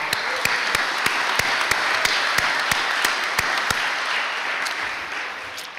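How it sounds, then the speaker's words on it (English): A crowd at a high school sports awards ceremony applauds steadily, a dense wash of clapping with a few sharp individual claps standing out, gradually tapering near the end. "If we could give him a round of applause."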